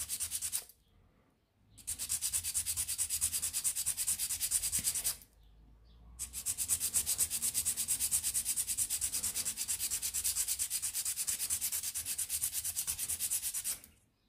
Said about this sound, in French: Donc je vais limer ici, sans toucher mon apex.